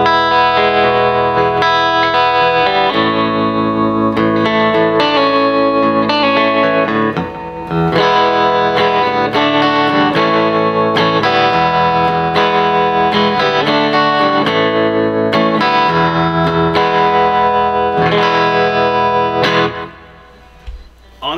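Electric guitar played through a Roland JC-40 amp with tremolo on, a loud, sustained run of ringing chords and notes with a pulsing, shimmering character, briefly pausing once and fading out at the end.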